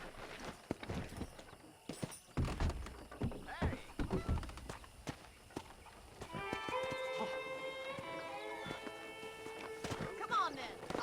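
Horse hooves clip-clop on the ground in Red Dead Redemption, followed by a whinnying neigh and game music, with characters' voices speaking over the sounds.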